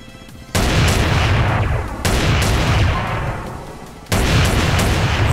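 Three heavy, booming blasts from a combat shotgun in a Call of Duty Black Ops weapon mod, evenly spaced and very loud, each with a long rumbling tail that decays before the next shot.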